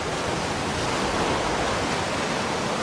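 Tsunami water pours over a sea wall onto a main road in Japan, a continuous loud, dense roar of rushing water that fills the whole moment without a break.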